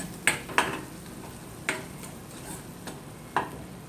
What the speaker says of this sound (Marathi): मला तेल सुटेपर्यंत हलवायचं आहे.